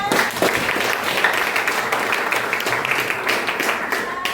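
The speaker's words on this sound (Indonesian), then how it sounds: "Iya, oke, tepuk tangan, ya." A classroom of students clapping their hands at the end of a lesson, a busy patter of many hands sustained for several seconds, fairly close, with a faint voice briefly over it.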